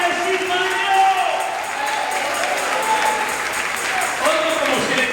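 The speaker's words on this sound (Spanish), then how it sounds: "Oigo como si le quiere dar palmas al Señor." A church congregation claps hands together during a Spanish-language sermon, a steady mass of clapping, fairly loud and continuous, with voices mixed in.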